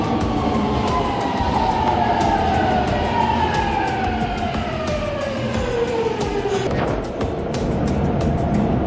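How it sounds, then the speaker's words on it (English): A train arriving at a station in Kobe, Japan, with a loud continuous rumble of wheels on rails and a long descending squeal of brakes as it slows, heard close. "My train's coming, so let's go."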